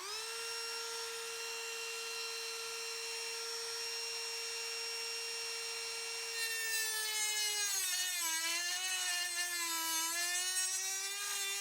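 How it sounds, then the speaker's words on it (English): A Dremel rotary tool trimming the rock sliders of a TRX4 RC 4x4 truck gives a steady, high, close whine that begins to waver in pitch as it bites into the part. "I think I will just trim the rock sliders with the Dremel"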